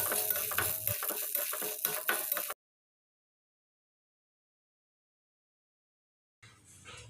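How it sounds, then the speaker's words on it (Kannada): Corn kernels for homemade popcorn are stirred and fried in a pan over high heat, making a scraping, sizzling rattle for a couple of seconds. Then silence follows, and a faint sizzle returns at the very end. "ಹೀಗೆ ಸ್ವಲ್ಪ ಫ್ರೈ ಮಾಡ್ತಾ ಇರಿ."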